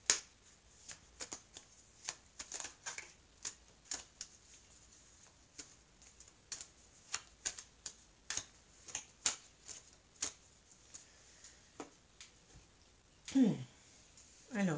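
Oracle cards are shuffled and laid out, giving a steady series of soft close slaps and flicks at an uneven rhythm, quiet and near, with a brief sliding rustle near the end.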